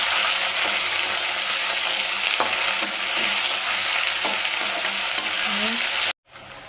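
Chopped onions sizzle and fry in a pan for mutton curry, a loud continuous hiss with occasional scraping stirs throughout, no talking, ending with a brief cut and quieter sizzling.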